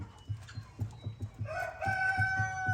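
Chickens on a farm in Ghana cluck in a rhythmic series of low pulses, joined midway by a rooster's long, harmonic crow, fairly close and without talk.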